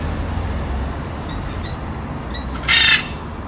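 A single loud, harsh squawk from a macaw rings out near the end, following a few faint parrot chirps over steady background noise, by the Demerara River.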